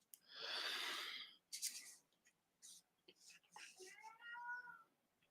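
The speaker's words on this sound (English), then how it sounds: "Oh, Bruce is meowing through the door." A cat meows several times, muffled as if behind a door, with drawn-out calls and a few soft rustles between them.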